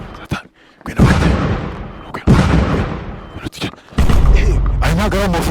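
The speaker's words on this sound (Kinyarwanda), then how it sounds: "ahubwo ni ibisasu ni bya misire" Heavy booms from a missile bombardment in a war zone crash in several loud bursts, each with a rumbling tail, separated by brief quieter gaps, with voices faintly audible between blasts.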